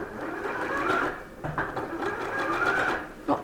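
Sewing machine zigzag stitching a knit cardigan, giving a steady close mechanical whir with a brief pause partway through and no talking.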